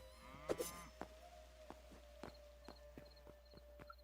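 A horse in the video game Hytale clip-clops at a steady walking pace, about a dozen distinct hoof strikes, with a short whinny near the start over a faint background hum.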